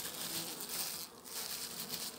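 A weak honeybee colony hums steadily and close up, the buzz staying even for the couple of seconds with slight dips; nobody talks.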